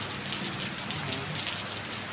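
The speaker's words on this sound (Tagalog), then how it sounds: "Umuulan na." Steady rain falling on a surface outdoors, a continuous dense hiss of drops with no other sounds, even and unbroken throughout.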